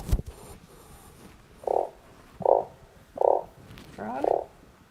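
Four evenly spaced, fairly loud croaks from a frog, each short and throaty, arriving roughly every three-quarters of a second against a quiet, faintly noisy background.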